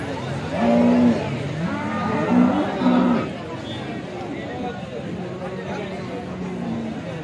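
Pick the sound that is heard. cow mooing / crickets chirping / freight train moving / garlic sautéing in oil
cow mooing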